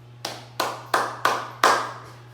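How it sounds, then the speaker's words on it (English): Five sharp hand claps in an even rhythm, each a crisp close slap spaced about a third of a second apart, over a faint steady low hum. "Let's give 5 claps for yourself."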